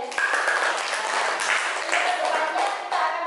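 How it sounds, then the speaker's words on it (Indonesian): Students in a classroom applaud a classmate, a short dense burst of clapping with voices mixed in. "Tepuk tangan untuk Brian."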